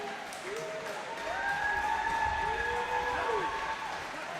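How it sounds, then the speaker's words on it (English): Crowd applause rings out after a roller derby game between school bouts' RockerSharks and BomberJets, a steady, fairly loud wash of clapping with high whistle-like tones gliding over it throughout. "Let's give a big round of applause to all of our speeders today."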